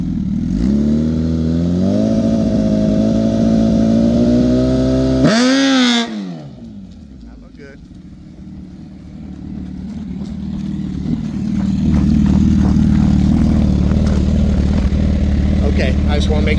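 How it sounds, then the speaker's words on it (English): A Gen 3 Suzuki Hayabusa drag bike with freshly changed gearing runs a dry hop, a loud close engine climbing in pitch, cutting off sharply, then idling and revving back up, with talk in the background. "We made a pretty substantial change to the gearing, so let Mike do a dry hop, see how the bike feels."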